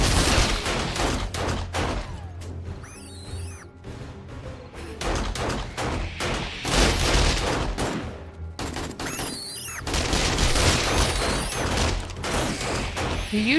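Dense gunfire during a zombie horde night in the game 7 Days to Die, with rapid overlapping shots and bursts hammering almost continuously and loudly, broken by brief lulls, with no talk over it.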